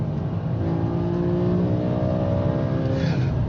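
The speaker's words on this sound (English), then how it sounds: "the whole engine tone just comes alive" A BMW M5 (E60) V10 car engine revs hard, its loud, continuous roar rising steadily in pitch as the throttle opens.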